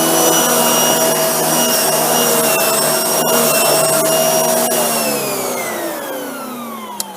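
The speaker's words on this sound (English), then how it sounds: "Let's just run this non-motorized tool on some pet hair." A vacuum cleaner runs steadily with a non-motorized brush tool, sucking up pet hair; the loud, continuous motor whine holds throughout and its pitch dips slightly near the end.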